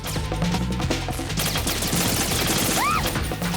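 Gunfire crackles in the video game Metal Gear Solid 2 as rapid overlapping shots and clattering impacts, loud and continuous, with a short rising whistle-like tone near the end.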